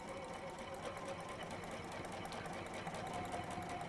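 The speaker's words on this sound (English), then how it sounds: "we're going to sew 1/4 inch either side of these lines" A sewing machine runs steadily, stitching quarter-inch seams on either side of marked lines in a workshop, a continuous whirring motor and needle drone filling the whole stretch at moderate level.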